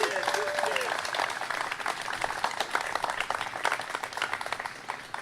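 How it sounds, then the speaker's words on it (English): A crowd applauds the mayor at an outdoor groundbreaking for a Vietnam War memorial in Piedmont Park, steady dense clapping lasting several seconds with a brief whistle-like cheer near the start. "Let's give our mayor another round of applause."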